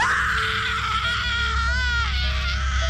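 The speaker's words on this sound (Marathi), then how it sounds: "अचानक कुणाच्या तरी किंचाळण्याचा आवाज आला" A drawn-out, wavering scream used as a sound effect in a Marathi ghost story, loud and close, with rising and falling pitch and no talk over it.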